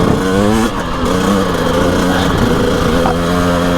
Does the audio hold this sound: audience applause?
no